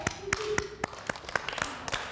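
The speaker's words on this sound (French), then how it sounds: "T'applaudis. Applaudis." A handful of scattered, uneven hand claps from children rehearsing theatre in Charleville-Mézières, each one a sharp, separate smack rather than sustained applause, fairly close and moderately loud.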